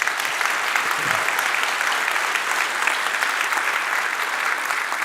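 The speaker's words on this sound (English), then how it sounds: "So let's give ourselves a big round of applause for that." Steady, dense applause from a large audience at a foodservice expo in Las Vegas, even and sustained for several seconds with no speech over it.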